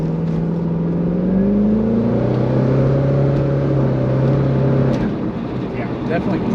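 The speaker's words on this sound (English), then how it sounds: "Got us right up to 60, but it makes some pretty fantastic sounds." Lingenfelter twin-turbocharged LS2 6.0-liter V8 in a 2005 Chevrolet Corvette convertible accelerating at light throttle, a steady loud engine drone with rising tones heard from inside the car while people talk over it.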